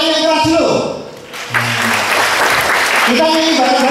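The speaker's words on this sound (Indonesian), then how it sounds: "Tepuk tangan yang keras dulu" Loud audience applause at a motivational talk, a dense burst of clapping from about 1.2 s to 3 s, with a speaker's voice before and after it.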